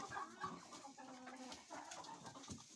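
Chickens cluck steadily in a poultry cage, a black hen among them, with overlapping mid-pitched calls and soft scratching close by, continuing through the whole stretch without talk.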